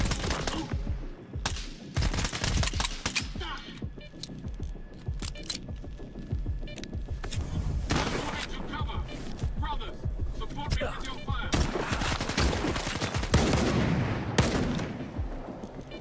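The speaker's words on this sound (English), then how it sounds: "I'm gonna run out of ammo shooting at these guys." Gunfire in the shooter game S.T.A.L.K.E.R. 2: Heart of Chornobyl, dense repeated bursts of automatic rifle shots mixed with impacts and movement, loud and continuous throughout, with a player talking over it.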